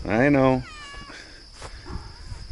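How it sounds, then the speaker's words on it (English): A newest litter of kittens meows, opening with one loud, drawn-out meow followed by fainter, higher mews, while a person talks softly nearby. "Oh, here's the kittens. This is the newest litter."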